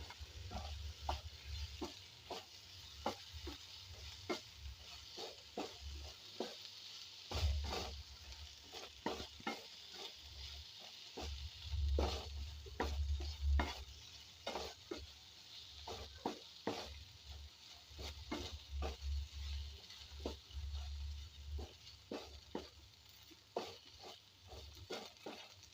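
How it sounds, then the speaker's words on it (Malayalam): Chili powder for an okra curry is stirred in a pan, a spoon scraping in steady irregular strokes over a soft sizzle, quiet and close, with no voices. "നമുക്ക് നന്നായി ഇളക്കി കൊടുക്കാം"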